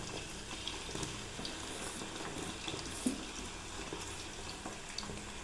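Hibiscus flowers, curry leaves, onion and aloe vera frying in hot oil for homemade hair oil, a soft, even bubbling sizzle with faint clinks, fairly quiet and without voices.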